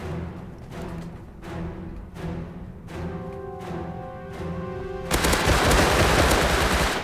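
Gunfire in the survival game Rust: several spaced shots ring out with tonal echoes, then a sustained loud burst of rapid automatic fire that fills the last couple of seconds.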